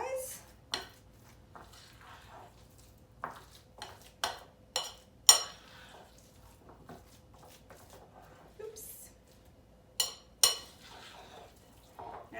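A spoon scrapes and clinks against a bowl while an egg and cheese manicotti filling is mixed, irregular sharp taps and knocks, close and fairly quiet.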